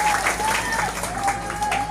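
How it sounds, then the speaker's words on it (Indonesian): Applause for a commander at a religious commemoration gathering in Batang, Central Java: a steady wash of crowd clapping with a sustained tone running underneath. "Tepuk tangan untuk Panglima LS."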